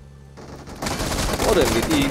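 An MG3 machine gun fires in a video game as a dense, loud burst of rapid shots. It starts after a short quiet lead-in and fills the rest of the moment.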